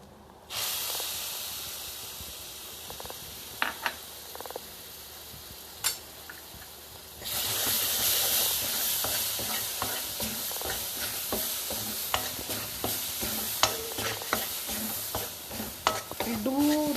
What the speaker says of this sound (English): Now we'll put our puree.